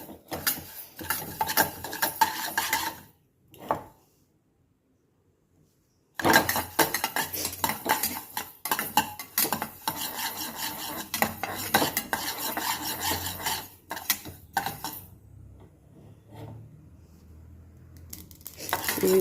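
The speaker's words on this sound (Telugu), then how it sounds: "ఇవి బాగా చిటపటలాడుతూ వేగిపోయిందండి" Fenugreek, mustard and cumin seeds dry-roast over a low flame in a pan, with dense bursts of rattling and clattering as they are stirred and splutter, a quiet pause of several seconds, then more busy scraping and crackle.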